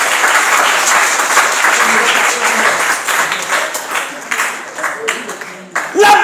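A church congregation applauds loudly in a dense, sustained burst of clapping that thins and fades, with voices rising over it near the end.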